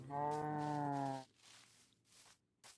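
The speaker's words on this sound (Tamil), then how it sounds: "இங்கே பாருங்க மாடுலாம் நிற்கிது." A cow in the Minecraft video game gives a single loud, drawn-out moo that lasts about a second, followed by faint scattered game sounds.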